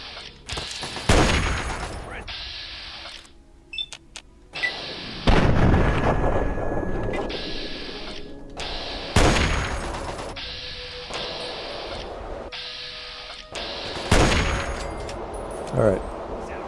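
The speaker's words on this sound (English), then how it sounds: "Who's shooting at us?" Gunfire and heavy explosive blasts in the video game Fallout 3 come as repeated loud booming shots with rumbling tails, spaced irregularly over a steady game ambience.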